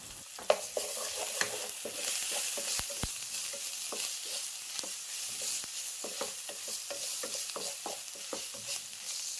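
Ginger garlic paste fries in a pan for matar paneer curry, a steady close sizzle punctuated by sharp clicks and scrapes of a spoon stirring.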